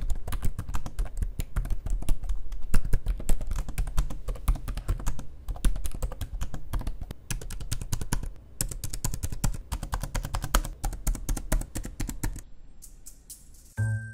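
Fast, continuous typing on the membrane keyboard of an ASUS ExpertBook B5 OLED 16-inch laptop, with its 1.5 mm key travel, gives dense, close-up soft clacks for about twelve seconds before stopping.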